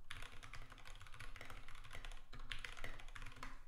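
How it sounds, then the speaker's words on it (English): Rapid, continuous typing on a mechanical keyboard, with dense clicky keystrokes and brief pauses, close and alone over a low background hum. "I've just never had a mechanical keyboard before."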